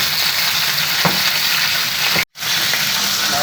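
Fish sizzling and frying steadily in a pan for fish dal curry, a dense close hiss with a few soft pops and stirs, briefly cut to silence midway.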